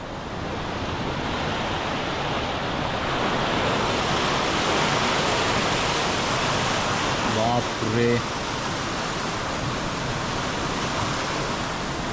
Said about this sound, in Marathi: आज सकाळपासून जोरदार पाऊस पडतो आहे आणि तुम्ही अंदाज घेऊ शकता एवढं पाणी आहे